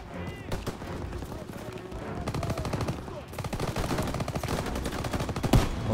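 Rapid M1 rifle gunfire in a Call of Duty: WW2 battle, dense bursts of shots from the player and surrounding combat running steadily throughout, with a louder crack near the end.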